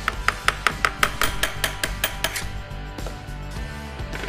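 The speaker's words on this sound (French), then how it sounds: "pour cela, j'utilise un petit marteau" A small hammer taps lightly on the differential housing of a classic Mini: about a dozen quick, crisp metallic knocks in an even rhythm, fading to a quieter ringing hum afterward.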